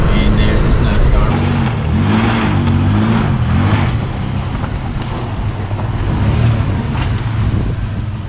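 Snowstorm wind the day after Christmas, a loud, steady roaring rumble buffeting the microphone for the whole stretch, with low droning tones beneath.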